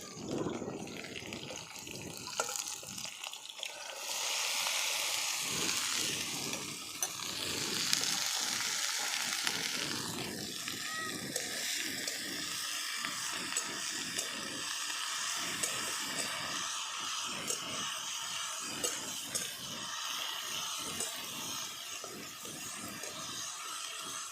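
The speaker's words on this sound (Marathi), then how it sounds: "मिरच्या परतल्या तर आता भेंडी टाकून घेऊ याच्यात" Okra stir-fried in a pan with green chillies, a continuous sizzling fry with scattered stirring clicks and scrapes, moderately close, no voices.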